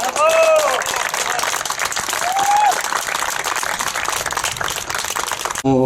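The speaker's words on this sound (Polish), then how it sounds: "Brawa dla wszystkich." Steady, loud applause from an audience honouring young football players at an award ceremony, continuous clapping filling the room with a few brief vocal whoops over it.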